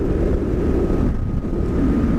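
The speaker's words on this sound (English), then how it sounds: "it's windy out here." Steady wind buffets the microphone, a low, rumbling roar that swells slightly and never lets up.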